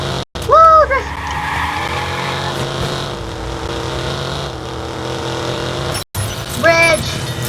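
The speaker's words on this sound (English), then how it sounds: "It was the best drift ever." A car drifts in the Watch Dogs video game, with engine roar running throughout and two short, sharp tire squeals near the start and the end, loud and close over a steady rumble.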